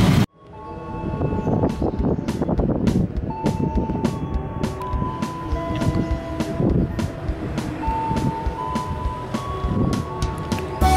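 A KRL commuter train passes the Cibitung railway crossing in Indonesia. Rumbling wheels and clattering railcars roll by at close range, with tonal crossing bells or horn notes ringing over the steady noise.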